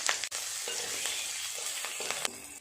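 Black cumin seeds and green chillies hitting hot oil for a fish curry, a close crackling sizzle with a few sharp pops and spatula knocks.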